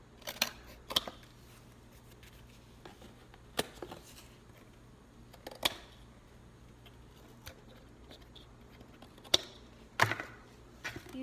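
Scissors cutting cardboard into a square, a series of faint, sparse snips and crunches spaced a second or more apart over a low, quiet room hum.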